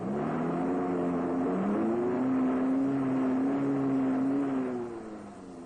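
A Series Land Rover in four-wheel drive revs hard as its wheels spin under sudden acceleration, a steady droning engine note with rising and falling pitch, continuous and moderately loud before fading at the end.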